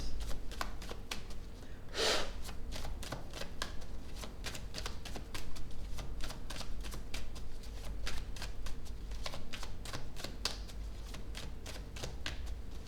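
Tarot cards shuffled and handled steadily at close range, a rapid papery riffle of flicks and snaps with one brief louder burst early on, no talking over it.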